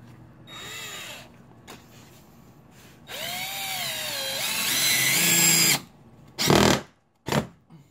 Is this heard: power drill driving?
yes